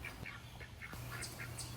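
A duck calls repeatedly inside a barn, a series of short quacks about every quarter second, fairly faint over steady background noise.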